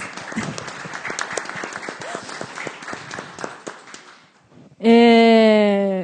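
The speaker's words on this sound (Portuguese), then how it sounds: "Uma salva de palmas." Audience applause at a São Paulo panel event, a dense crowd of claps lasting about four seconds and then fading out, after which a loud, sustained harmonic tone cuts in abruptly.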